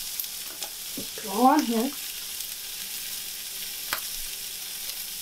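Steak fries in a pan with a steady, moderate sizzle close by, broken briefly by a man's short spoken remark.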